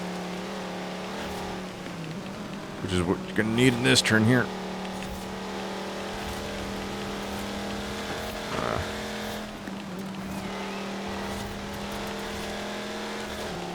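A race car in Forza Horizon 4, a slow car with heavy downforce, holds a steady engine drone with a brief rising rev and tire squeal through a turn, while someone talks over it.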